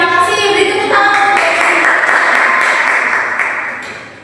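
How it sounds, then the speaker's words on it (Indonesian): Classroom applause from students after a Bahasa Indonesia poetry lesson, a steady burst of many hands clapping together for about four seconds, fading slightly toward the end with a few tonal pings early on. "Beri tepuk tangan."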